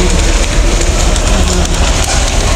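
A Singapore MRT train at a station gives a loud, steady rumble and roar that fills the whole span without a break, close by and with no voices.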